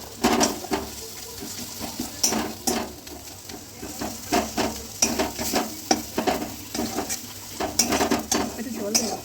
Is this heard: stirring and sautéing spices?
yes